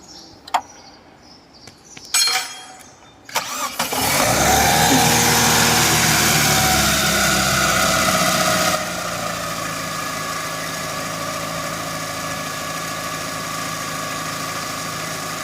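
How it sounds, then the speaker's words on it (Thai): A Chevrolet Optra 1.6 with a shaking, stumbling fault cranks with a few sharp clicks and bursts, catches loudly, then settles into a steady, even idle hum that continues to the end. "เดี๋ยวเราจะลองสตาร์ทดูว่าอาการรถมันจะเป็นยังไงนะครับ"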